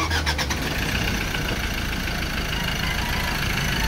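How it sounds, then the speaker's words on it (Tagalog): A 2015 Ford Ranger 2.2 diesel with manual transmission runs rough, giving a steady, loud, gritty engine clatter with a brief rhythmic pulsing at the start, heard alone and close. "ang andar ng makina ngayon ay parang galingan ng bato"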